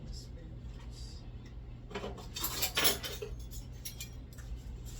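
Rummaging through cutlery for measuring spoons in a home kitchen while baking chocolate hazelnut cookies: faint clinks and metallic rattles build to a louder jangle of utensils, then scattered clatter, with a voice in the background.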